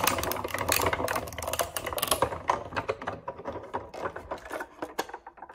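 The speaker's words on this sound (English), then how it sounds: "I'm gonna go ahead and run it through." A Sizzix die-cutting machine cranks crepe paper petals through between cutting pads, giving a dense, steady run of close clicking, grinding and crunching that eases off toward the end.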